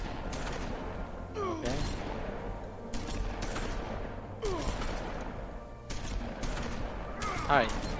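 Shotgun fire in The Wolf Among Us, several sharp blasts spaced a second or two apart over a busy game soundscape, moderately quiet overall.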